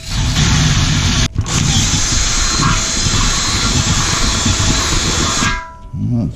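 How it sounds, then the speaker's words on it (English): A power drill bores a pilot hole into the lid of a Weber 22-inch grill, a loud continuous whine lasting several seconds with one brief break before it stops abruptly. "Let's go ahead and drill this."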